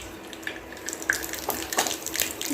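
Mustard seeds spluttering in a teaspoon of hot ghee for a rasam tempering, a close, steady crackle and sizzle with scattered sharp pops throughout.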